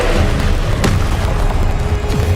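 A spell cast in the Hogwarts Legacy video game lands as a sharp, booming burst near the middle, set against a steady bed of game sound and music.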